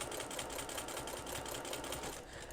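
An embroidery machine stitches an in-the-hoop go fish game closed, a fast, steady mechanical whirring with rapid rhythmic needle ticks, close and uninterrupted.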